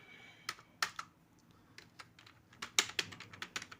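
Someone types on a computer keyboard in quick, irregular bursts of crisp key clicks, close and fairly quiet, with no voice over them.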